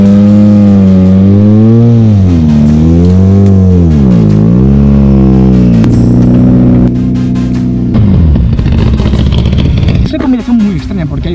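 Loud Ford Fiesta WRC rally car engine revving up and down in repeated swells at a rally event, then holding a steady roar before a rougher, crackling burst; a voice talks over it.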